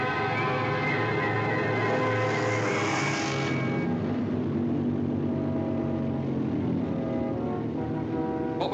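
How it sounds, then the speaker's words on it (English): Aircraft engine drone in a 1946 war film, a steady heavy roar that shifts in tone partway through as the pilot throttles back, continuous and loud with no talk. "The engine changed its noise."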